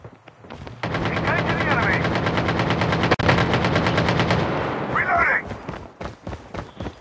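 Rapid automatic AK-47 gunfire in the COD Mobile shooter game, a sustained loud burst of shots lasting several seconds, close and dominant over the game's background sounds.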